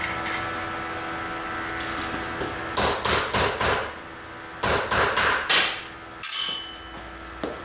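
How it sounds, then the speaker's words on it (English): Hammer and chisel strikes on metal chain rivets in quick bursts of three or four sharp blows, separated by pauses, close and loud with a faint hum behind. "all I got to do is pop them off now with a chisel and hammer"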